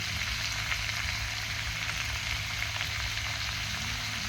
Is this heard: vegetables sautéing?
yes